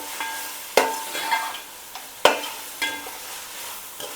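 Ginger garlic paste frying in a pan, a continuous sizzle punctuated by a few sharp scrapes and knocks of a spoon stirring against the pan, roughly every second or so; close and alone, with no talk.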